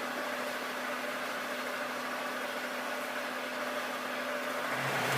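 A fuel-injected light car engine revved up during a throttle position sensor check, a steady loud close drone with an engine tone rising slightly at the end, no talk.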